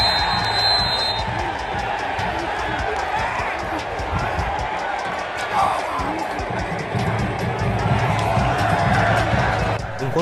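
Football fans at Almeidão stadium cheering and singing, a broad steady roar of a large crowd with chanting voices rising and falling, heard from within the stands.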